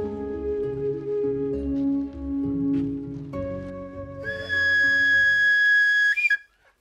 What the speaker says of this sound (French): Des coups de sifflet pour rallier les autres dozo postés sur les lieux à rejoindre le groupe pour la cérémonie.